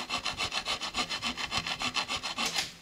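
Hand grinding or rasping to shape a piece of material by hand: a steady series of about sixteen quick, even back-and-forth scraping strokes, close and moderately loud, with no voices.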